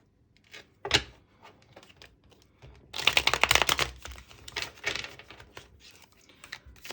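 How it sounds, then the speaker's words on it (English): A deck of tarot or oracle cards is shuffled in a quiet room, giving a burst of rapid riffling clicks in the middle, framed by scattered softer card taps and slides. "Let's do one more shuffle."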